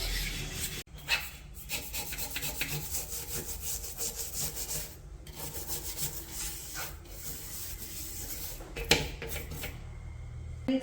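A brush scrubs hard at coffee stains, a rough, continuous rasping back-and-forth friction with a few sharper knocks, close and without any talking.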